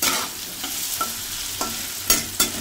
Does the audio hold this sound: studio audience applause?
no